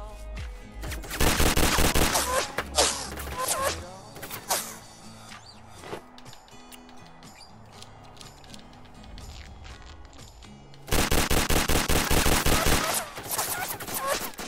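Rapid bursts of gunfire in the Apocalypse Rising video game, two loud dense volleys separated by a quieter stretch of clicks and mechanical handling noises.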